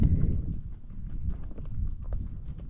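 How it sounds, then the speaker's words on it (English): Hooves clip-clop on the ground as horses walk past on a mountain trail near Rainbow Mountain, Peru, a loose uneven rhythm at moderate distance with no voices. "And the llamas and the horses come to say farewell."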